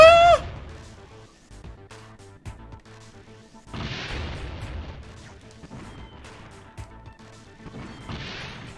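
Missile blasts in the video game Crash Bash, a loud crash at the start followed by two more explosive bursts a few seconds apart, with quieter game effects between them.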